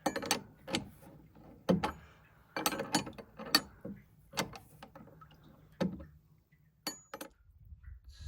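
Wrench turning carriage bolts into timber swim steps for a dock, giving a string of sharp metallic clicks and knocks in irregular bursts, close and fairly loud, with no talk.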